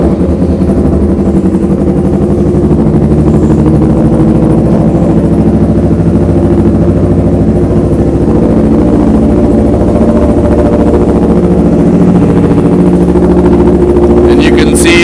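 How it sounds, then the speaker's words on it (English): A Yamaha YZF R3 motorcycle engine runs loud and close at a steady idle for the whole stretch, with a constant low throb. The moment of starting is not distinct. "now we're just gonna start the bike"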